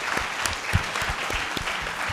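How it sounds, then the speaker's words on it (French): An audience applauds a member of parliament at an evening talk on maritime issues, a dense, close burst of clapping that fills the whole moment with no voices. "Je crois qu'on peut vous applaudir fortement pour ce soir et pour ce que vous faites."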